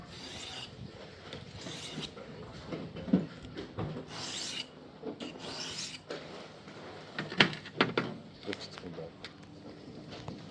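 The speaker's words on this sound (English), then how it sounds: "I'm sharpening some knives." Knives being sharpened ahead of butchering a whole pig, with repeated rasping, rubbing strokes at close range, irregular in rhythm, alongside shuffling and background noise.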